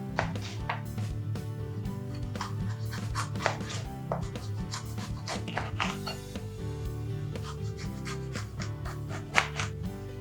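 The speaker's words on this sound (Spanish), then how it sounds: "Cortamos en rodajas los pimientos con un grosor como de 1 centímetro más o menos." A knife slices bell peppers into rings about a centimetre thick on a cutting board, a steady run of close, crisp cuts and taps in quick succession with no talk.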